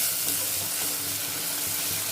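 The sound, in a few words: onions and green chillies frying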